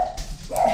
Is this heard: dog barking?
yes